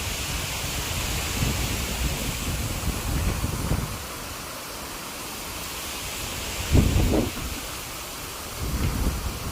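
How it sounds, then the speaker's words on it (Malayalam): Heavy rain pours steadily, broad and unbroken, while low rumbles of thunder roll in a few times, one swelling noticeably louder. "പക്ഷെ രാവിലെ എണീറ്റ് നോക്കിയപ്പോൾ മഴയ്ക്ക് ഒരു കുറവുമില്ല, അതുപോലെ തന്നെ നല്ല മഴയുണ്ട്"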